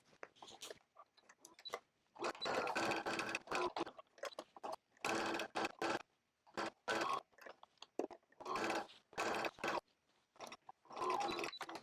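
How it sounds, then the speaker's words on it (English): Sewing machine top stitching around coat pockets, running in several short bursts of quick mechanical stitching with brief pauses between runs, fairly close and alone. "now I can do the top stitch on my pockets. So I'm just gonna stitch"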